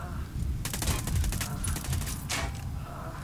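Gunfire in Ghost Recon Wildlands, several sharp shots in quick bursts over a rumbling game background, no speech.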